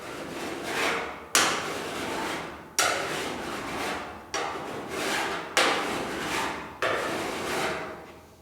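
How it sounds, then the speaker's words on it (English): A metal file works the edge of a GTO restomod car door in six long, even rasping strokes, each starting sharply and then tapering, close and loud with no talk. "So I'm just gonna kind of keep filing on this."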